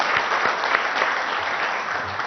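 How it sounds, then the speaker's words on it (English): Brief, steady applause comes from the audience at a CII business meeting in a hotel room, a continuous patter of many hands at moderate loudness with no talk. "I think he deserves a big round of applause."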